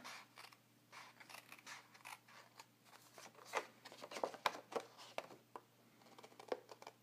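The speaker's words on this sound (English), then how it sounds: "I'm going to cut out the 3 outside" Scissors snipping through card stock for a boxed card set, a series of short, crisp, irregular cuts heard close up and fairly quiet, with no voices.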